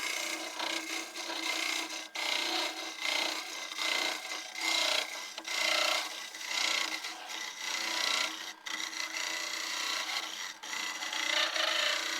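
A wood-turning tool scrapes and rasps steadily against a spinning hollow-form vase on a lathe, a continuous hissing cut with slight swells in intensity, close and fairly loud.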